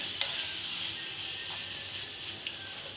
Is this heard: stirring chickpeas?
yes